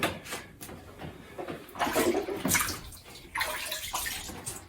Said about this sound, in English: I usually put my water in first because I don't want it to get real sudsy